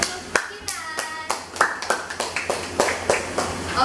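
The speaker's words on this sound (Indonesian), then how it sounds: "Tepuk tangan" A small classroom group claps during a school micro-teaching lesson on electrolysis, sharp, close hand claps in an uneven rhythm that never swells into full applause, with brief children's voices in between.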